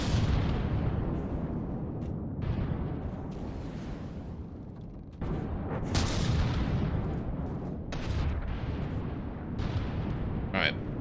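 Heavy cannon fire in the naval video game From the Depths: loud booming shots recur every couple of seconds over a constant rumbling roar of battle, with someone talking throughout.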